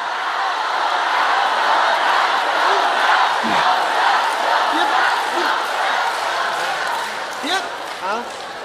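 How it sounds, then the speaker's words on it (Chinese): Live crosstalk comedy theatre audience of about 1,200 clapping and murmuring as a continuous crowd noise, with scattered shouts and voices over it; the clapping is dense rather than clearly in rhythm. "我怕他们鼓掌挥鼓的挺有节奏那种，不太好。"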